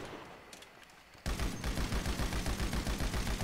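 Shotgun fire in GTA 5 during a zombie roleplay bursts in suddenly after a quiet second, then continues as loud rapid repeated blasts that run to the end of the clip, with no speech.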